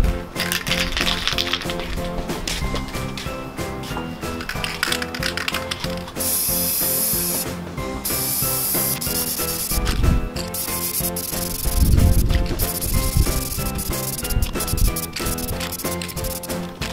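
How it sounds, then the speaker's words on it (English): Rust-Oleum spray paint hisses from a can onto a bus body in intermittent bursts, loud and near, mixed with background music and occasional knocks. "Put a little Rust-Oleum up there just to keep the surface rust at bay."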